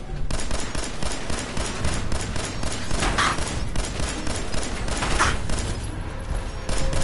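Sustained automatic gunfire in a PS4 shooter, a steady crackling stream of rapid shots with a few louder bursts mixed in, close and continuous for several seconds, with no speech.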